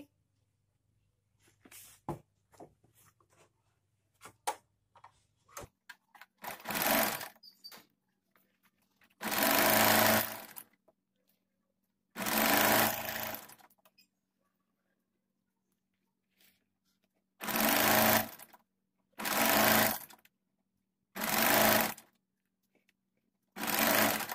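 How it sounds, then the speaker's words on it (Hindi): A sewing machine stitches a cutwork design onto a trouser in repeated loud bursts of a few seconds each, separated by quiet pauses with light handling clicks and taps. "चलिए इसमें सिलाई लगा लेते हैं और इस डिजाइन को ट्राउजर में स्टिच कर लेते हैं"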